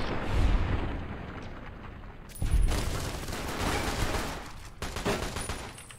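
AK rifle fire in Fallout New Vegas: a few bursts of loud, close automatic gunshots with rolling low booms, a short pause, then another volley, no talking.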